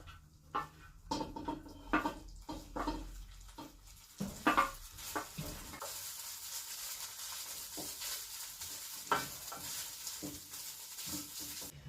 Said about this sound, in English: I'm gonna add my rice and fry until it is shiny.